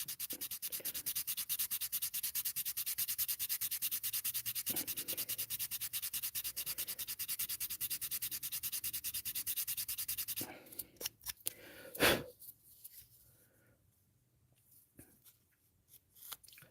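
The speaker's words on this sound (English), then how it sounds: "I'm going to have to take my sandpaper. I'm going to level this out before I ever get my hinge started." Sandpaper is rubbed by hand across a truck body panel to level it, a dense steady scratching that runs continuously for about ten seconds, then breaks into a few short strokes and pauses.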